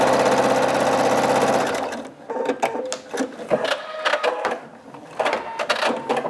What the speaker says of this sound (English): And finish stitching it.